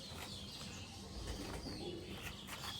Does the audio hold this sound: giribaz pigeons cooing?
yes